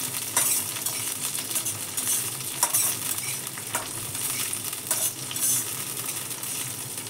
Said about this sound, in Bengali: বিনস বেশি ভাজবো না, হালকা করে কষিয়ে নেব